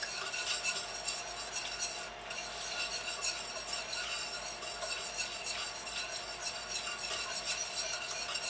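Canned tomatoes are stirred into a Thai Cajun seafood curry, with a soft continuous stirring and a faint sizzle from the pot, plus light clinks of the utensil against the pan.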